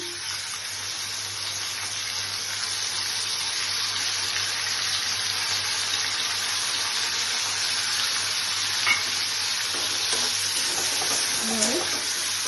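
Washed dal tipped into a hot pan for a paneer and pumpkin seed curry, giving a steady broadband sizzle that holds through the whole stretch, with faint clinks near the end.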